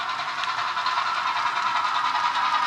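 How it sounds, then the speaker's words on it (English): An HO scale Milwaukee Road model train runs on a large layout near Wabasha, giving a steady, even hiss and rumble that holds level throughout with no voices. "Don't you just love that train?"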